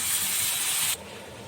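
Water hits hot chili masala in a pan, giving a loud steady hiss that cuts off abruptly after about a second, leaving quieter low background.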